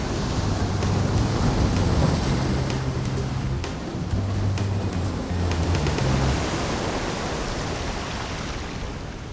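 Ocean waves breaking along the Cornwall coast make a steady, full-bodied wash of surf that rolls on without a break, with occasional wind buffeting the microphone.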